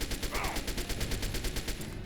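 Minigun fire in Fallout 3, a rapid, steady stream of evenly spaced bursts that runs without a break for about two seconds, loud and close, with no talking over it.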